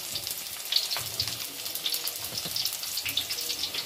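Crushed chui jhal, a pungent stem spice, fries in hot oil for desi chicken curry, a soft continuous sizzle with light crackles, fairly quiet and close, no voices.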